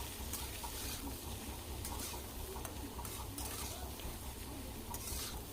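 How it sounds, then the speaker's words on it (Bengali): Brinjal and potatoes stir-frying in a pan over a medium flame, with a steady dense sizzle throughout and repeated scraping strokes of a spatula, close and loud, no talking. "বেগুন আলু সব দিয়ে ভালোভাবে ভেজে নিতে হবে মিডিয়াম ফ্লেমে"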